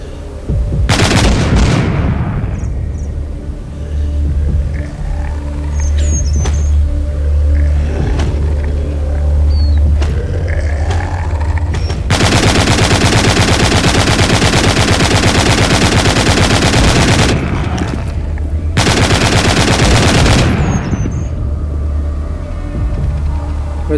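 Machine-gun fire in the zombie shooter The Walking Zombie 2, heard as loud sustained bursts of automatic gunfire with booming impacts, two long dense stretches late on and busy game noise between them.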